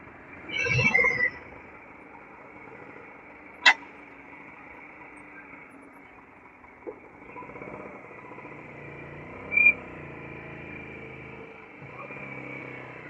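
A two-stroke vintage motorcycle, a Yamaha RX 100 at a scooter restoration workshop, is ridden. Its engine gives a steady, fairly distant hum broken by a few brief sharp clicks.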